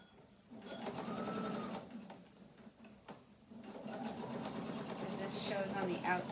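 Sewing machine stitching bias tape onto a pants front pocket, its motor whirring in two long runs broken by a short pause, close and steady. A voice talks over the stitching.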